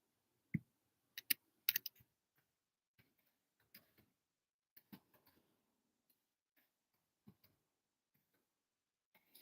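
Sparse, quiet keystrokes on a computer keyboard, scattered clicks in short bursts with pauses between them.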